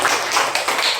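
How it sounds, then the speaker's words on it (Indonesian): Students in a classroom clapping for a classmate, a short dense burst of hand claps filling the room with no clear talk. "tepuk tangan untuk teman kalian."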